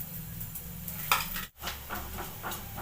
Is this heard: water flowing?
no